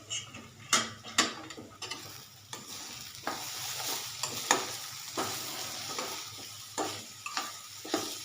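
Grated carrot curry with salt and turmeric fries in a pan while being stirred, giving a soft continuous sizzle broken by repeated scraping strokes of a utensil against the pan at an uneven rhythm, close by.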